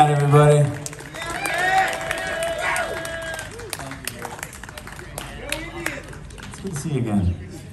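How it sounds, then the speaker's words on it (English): A crowd at a live music show cheers and claps after a song, a loose wash of applause and shouts with a voice speaking over the noise. "Make some noise for Matt, everybody."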